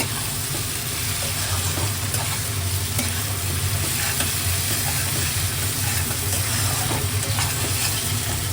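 Ginger, garlic and green chili paste with tomato frying in a pan, a steady loud sizzle with stirring scrapes mixed in, close and continuous, no voices.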